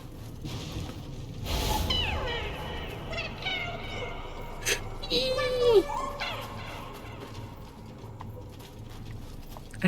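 Cat meowing in the video game Nioh 2, a short rising mewl around the middle, heard over busy game ambience with a voice talking nearby.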